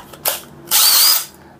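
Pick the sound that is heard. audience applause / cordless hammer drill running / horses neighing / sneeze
cordless hammer drill running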